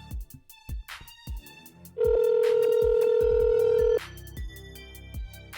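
An outgoing phone call ringing back: one steady electronic ring tone held for about two seconds, clear and prominent, preceded and followed by quieter background sounds with no talking.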